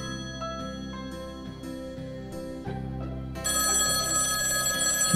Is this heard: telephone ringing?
yes